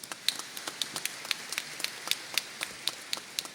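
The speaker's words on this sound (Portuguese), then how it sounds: "uma salva de palmas" Applause at a formal award ceremony for an environmental law figure: steady, evenly spaced hand claps, fairly faint and distant, with no talking over them.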